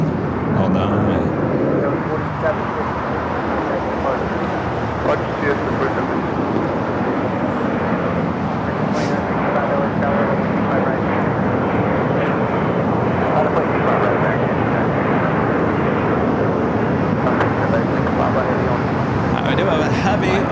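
Heavy Air France Boeing 777-300ER jet arriving at LAX from Paris, a loud steady broadband engine roar sustained throughout with a faint voice underneath.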